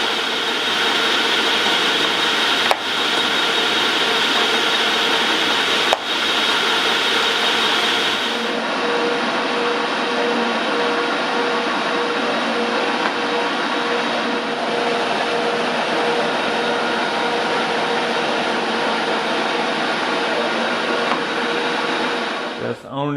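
Okuma LS lathe running at half speed, a steady loud mechanical whir with a constant tonal hum throughout, a couple of brief clicks early on and a slight shift in tone partway through.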